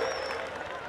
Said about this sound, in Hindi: तालियां बजा दोस्तों।